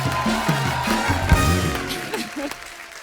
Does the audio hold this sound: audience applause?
yes